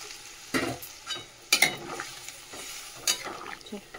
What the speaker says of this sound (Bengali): এবারে দেখো ভাতের জল তো বসিয়েছি, গরম জলই দিয়ে দেবো এর মধ্যে।